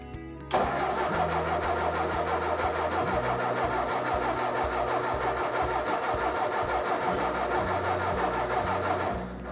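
A Ford 4000 diesel tractor engine cranks over steadily and loudly for several seconds with a continuous rough mechanical chug, starting abruptly after a brief quiet moment.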